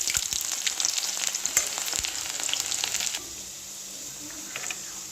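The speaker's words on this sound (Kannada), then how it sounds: "ಇವಾಗ ನಾನು ಈರುಳ್ಳಿಯನ್ನು ಗೋಲ್ಡನ್ ಕಲರ್ ಬರೋವರೆಗೂ ಫ್ರೈ ಮಾಡ್ಕೋಬೇಕಾಗತ್ತೆ" Onions, bay leaf and cinnamon sizzle in hot oil in a pan, a crackling hiss with scattered pops that stays close and fairly loud for the first few seconds, then settles to a softer, steady fry.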